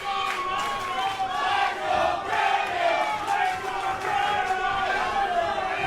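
Wrestling event crowd cheering and chanting at a match between Brandon Barretta and Rhyno, a loud sustained roar of many voices with rhythmic shouted chants.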